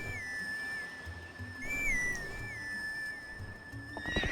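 A bright, wavering horse whinny from The Legend of Zelda: Twilight Princess rises and falls over steady game ambience with a sustained tone, ending in a brief clatter near the end.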